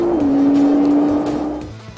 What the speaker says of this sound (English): the GTR produces the most crushing acceleration of virtually any